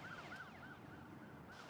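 Ambulance siren with a rapid repeating wail, several quick up-and-down cycles, faint and distant over a low background rumble.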